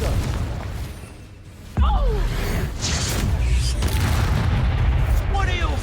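A Confringo spell explodes in Hogwarts Legacy, a sudden loud boom landing midway and followed by crackling, whooshing magical effects and bursts. Busy game sound and voice-like sounds run throughout.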